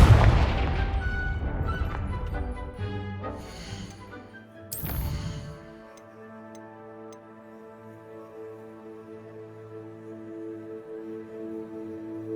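Confringo fire spell blast in Hogwarts Legacy on PS5: a loud, deep boom and crackling burst near the start, a sharp second impact around the middle, then sustained tonal game music ringing on alone.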